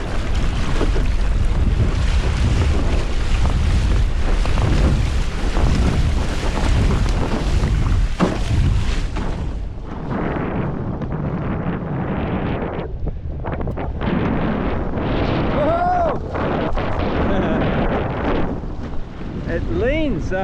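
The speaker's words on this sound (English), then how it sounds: "This action. Windsurfing." Strong wind buffets the microphone while a foiling windsurf board rushes over open water, a continuous roaring gust that eases partway through, with someone speaking briefly over the noise.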